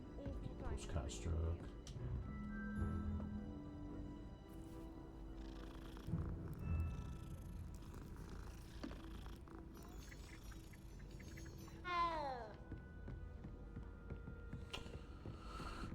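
A cat purrs while being stroked in the Hogwarts Legacy video game, a low rumbling purr under soft game ambience, chimes and small effect sounds.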